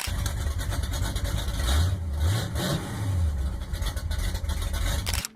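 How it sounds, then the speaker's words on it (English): Powerful race car engines roar and rev loudly and continuously, rising and falling in pitch as they pass close by. "Engines roar."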